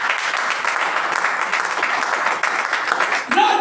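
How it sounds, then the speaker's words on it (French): A church congregation applauding for the Lord Jesus Christ, with dense, steady clapping and cheering from a crowd that lasts the whole time and swells slightly at the end. "Est-ce qu'on peut acclamer pour le Seigneur Jésus-Christ?"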